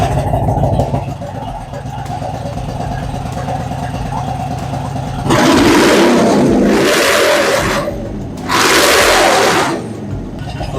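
A Honda Shadow motorcycle engine, recently treated with Seafoam, idles with a steady low rumble and then revs up loudly in two sustained bursts before settling back to idle.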